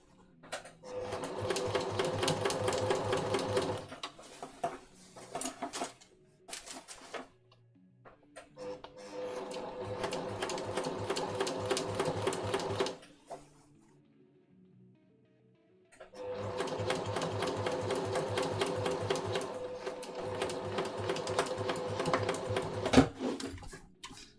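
A sewing machine stitches a basted children's jacket in three sustained runs of rapid, even mechanical whirring, separated by quiet pauses.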